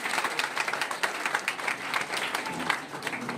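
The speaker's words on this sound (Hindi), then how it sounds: "और एक बार खूबसूरत ग्रामीण चिकित्सक के लिए हम लोग ताली बजावे" Steady, dense applause from an audience honoring a rural doctor at a rural medicine and skill development workshop held by the MSMG Foundation, continuous and fairly close for the whole stretch.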